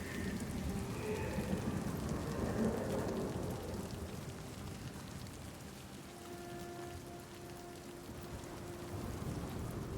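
A storm sweeps through a video game scene, with steady heavy rain hissing and low rumbles of thunder rolling beneath it, no talk over the sound.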